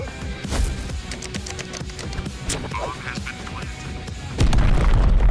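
A bomb blows up on the de_dust2 map in the video game Counter-Strike, heard as a loud, low burst near the end after busy clicking game sounds, with a voice talking over it.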